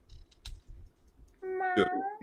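A person imitates a cat's meow for a show segment: a single loud, drawn-out voiced meow with a rising, bending tone, following a few soft clicks and light taps.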